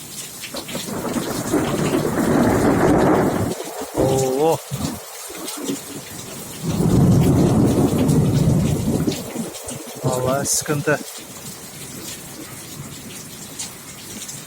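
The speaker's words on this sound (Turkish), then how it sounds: "O şimşek de çaktı." Heavy rain pours steadily while thunder rumbles loudly in two long rolls; a voice speaks briefly between them.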